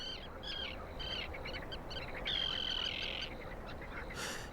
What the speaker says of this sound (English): In early summer, the sound of prayer is broken by the calls of thousands of birds